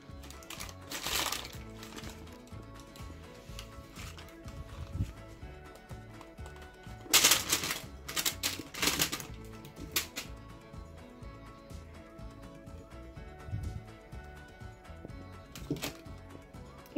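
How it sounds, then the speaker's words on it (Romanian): New potatoes coated in a garlic and dill dressing are laid into a baking tray lined with baking paper, giving close, intermittent crinkling rustles and soft bumps with quiet gaps between them. "Iar acum îi voi așeza într-o tavă în care am pus hârtie de copt"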